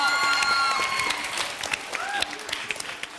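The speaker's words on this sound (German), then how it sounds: "Applaus für Steffi! Einen großen." Applause and cheering from the audience for a child contestant leaving a kids' talent contest, loud at first with whoops, then thinning into scattered claps.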